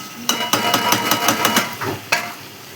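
Saoji masala and chicken being stir-fried in a pan, a run of sharp metallic spatula knocks and scrapes in an uneven rhythm over a soft sizzle, close and fairly loud.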